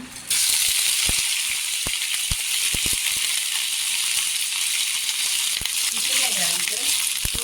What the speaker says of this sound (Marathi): तेल असं पूर्णपणे गरम झालेला आहे तर ह्याच्यामध्ये काही टाकायचं नाही आपण वांगी टाकायची